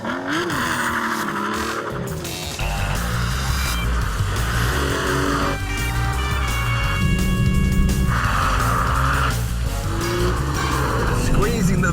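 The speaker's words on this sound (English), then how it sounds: "start the engine" An Aston Martin V12 Vantage's V12 engine fires up and settles into a deep, rumbling idle with loud revving, filling the clip continuously.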